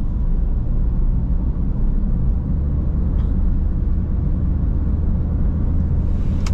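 A Honda Brio engine pulls under throttle while driving on the road, a steady low rumble heard from inside the cabin, moderately loud and unbroken, with no talking.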